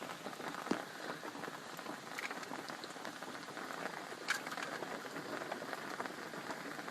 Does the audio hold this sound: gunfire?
no